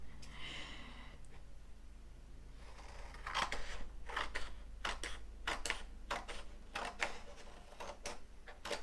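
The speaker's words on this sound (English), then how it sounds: "why are my scissors so sticky?" Scissors sticky with adhesive snipping through paper while scrapbooking, a quiet series of short, crisp cuts arriving in an uneven rhythm after a few seconds of near silence, close to the microphone.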